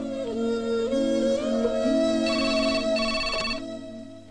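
A telephone rings during a call, giving a tonal electronic ring with a repeating melodic pattern for about three and a half seconds, with no talking.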